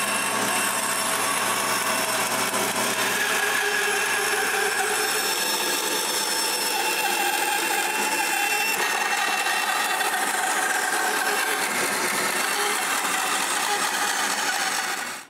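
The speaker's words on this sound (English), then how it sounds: "I cut the hole with the bandsaw" A bandsaw cuts a hole through a piece of wood in a workshop, a steady loud buzzing whine with a grinding, rasping edge that runs continuously for about fifteen seconds before cutting off.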